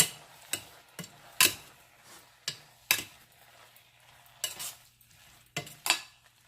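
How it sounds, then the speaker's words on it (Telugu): Gongura (sorrel leaf) pickle with salt and chili being fried and stirred in a pan, a series of sharp spoon scrapes and knocks at irregular intervals over a faint low sizzle. "ఇప్పుడు ఇది బాగా ఇలాగ వేయించుకోవాలి"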